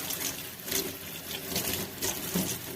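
Hot tap water runs continuously while greasy plastic kitchenware is scrubbed with a scouring sponge, a steady close rushing splash with faint wiping surges and no talk.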